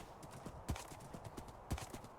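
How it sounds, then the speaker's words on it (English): Horse hooves clip-clopping in the Minecraft video game, a quick, even run of soft thuds at close range with two heavier hits, no talk over it. "Oh, I'm killing the horse."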